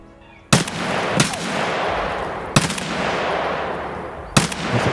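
In the video game Escape From Tarkov, four loud, sharp gunshots ring out at uneven intervals, each with a booming, reverberant tail that carries over the outdoor woods ambience.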